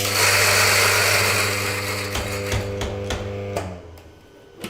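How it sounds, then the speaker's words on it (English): A coffee grinder whirs through a batch of coffee beans, a steady high-pitched motor whine that runs down and sputters out near the end, with a few clicks as it stops, close and alone. "I'm just going to grind the coffee"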